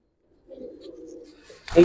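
Old-breed Giribaz pigeons at a loft coo in a soft, low murmur that rises briefly, followed by a louder sharp burst near the end.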